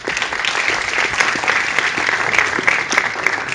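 Sustained audience applause at a talk welcoming a sports club's youth-division director, a dense, steady patter of many hands clapping close-up that holds for the whole stretch without voices.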